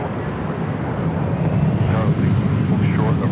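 Korean Air airliner in its blue metallic livery at Los Angeles International Airport, a steady loud jet engine roar with wind rumble, with someone talking over it.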